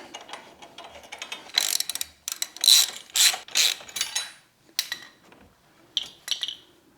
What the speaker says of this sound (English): 17mm socket to secure this